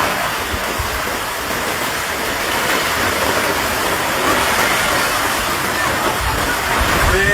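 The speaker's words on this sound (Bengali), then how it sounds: "ঢেউ দাঁড়ানো যাচ্ছে না" Rushing, churning water fills the clip with a steady, loud broadband roar, like waves surging through floodwater, with no clear voices.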